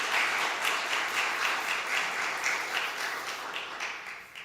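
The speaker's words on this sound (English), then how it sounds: "Miss Ellie Williams, give her another round of applause." Audience applause fills a ceremony hall at a Scouts Eagle Court of Honor, a steady dense patter of many hands that holds level and tapers off at the end, with no talking over it.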